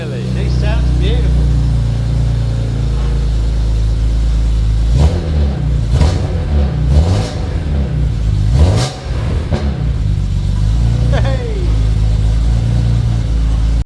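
A BMW E46 M3 engine idles with a deep steady rumble, then revs sharply several times in quick bursts before settling back, loud and close, with someone speaking over it.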